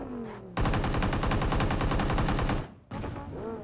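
Rapid automatic gunfire in a horse-riding video game, a loud, dense burst of evenly spaced shots lasting about two seconds, with a short gap before more firing resumes.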